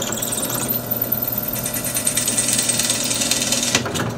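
A power drill bores out a soft aluminum rivet on a 2021 Husqvarna TE 300i motorcycle, a close, loud continuous whirring grind that holds steady for about four seconds, then drops off as the bit breaks through.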